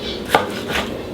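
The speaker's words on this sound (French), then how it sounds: "pour les tripes, panse et feuillets, je les coupe à la bouchée" Two crisp knife chops through beef tripe, paunch and leaves being cut into bite-sized pieces on a board, close up in a quiet kitchen.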